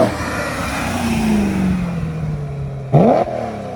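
A BMW M3 accelerates past on a test run, its engine note rising in a long drone that peaks close by, followed by a sharp, loud burst as it revs and shifts, then recedes.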